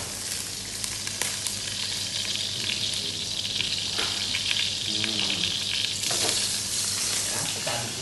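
Hot ghee, about 150 grams, sizzles in a pan while being stirred for biryani, a dense steady frying hiss with clinks and scrapes of the utensil, close and loud throughout.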